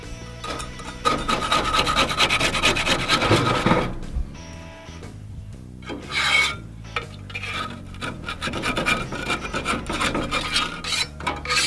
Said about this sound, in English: There's where your putty knife really comes in handy.